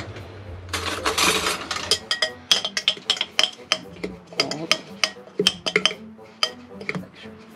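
A metal spoon clinks repeatedly against the glass of a French press while stirring wet coffee grounds at a small campsite in Sedona, Arizona, giving a close series of sharp, irregular chinks after a brief rush of pouring or scraping, with no talk.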